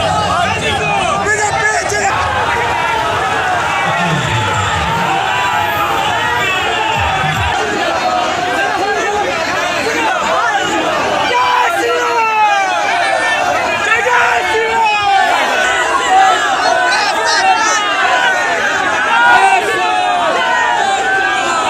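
Crowd of BJP supporters, hundreds strong, gathered in Asansol to welcome Jitendra Tiwari, a dense continuous hubbub of chatter and occasional shouts and whoops, loud and close throughout.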